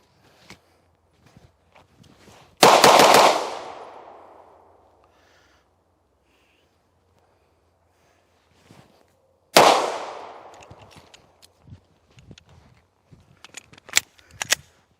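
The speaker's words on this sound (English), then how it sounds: "so 3 to 5 shots at A box, and then I went to slide lock" Two sharp, loud pistol shots during a shooting drill, each a single crack with a fading ring-out, spaced several seconds apart, followed by scattered small clicks and handling noises.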